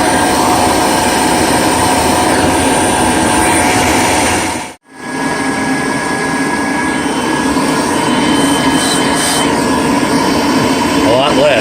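A Kirby vacuum cleaner running with a 17-foot extension hose gives a loud, continuous roaring whoosh, with one brief dropout partway through before the steady airflow noise returns.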